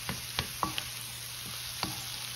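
Vegetables for chicken fried rice are stirred in a hot pan, with a few sparse scrapes and taps of the utensil over a faint, low sizzle.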